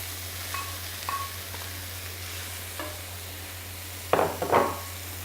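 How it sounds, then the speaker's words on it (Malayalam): Bitter gourd fries in a pan for pickle, with a quiet steady sizzle under a low hum, a few light clinks and a short burst of scraping stirs near the end. "ഇപ്പം നമുക്ക് ഇതിങ്ങനെ വറുത്തെടുക്കാം."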